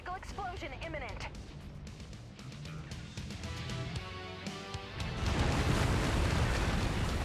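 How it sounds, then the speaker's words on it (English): A critical mech engine explosion in MechWarrior 5 erupts as a loud, broad rumbling blast near the end, following busy game noise and talk. "I still appreciate the inclusion of critical engine explosions."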